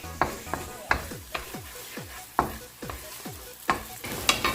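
Ground meat and onion fry in a pan for a Cebu-style dish, a close, steady sizzle punctuated by about eight rhythmic scrapes and taps of a spatula against the pan, no talking.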